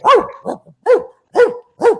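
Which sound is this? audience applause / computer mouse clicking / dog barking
dog barking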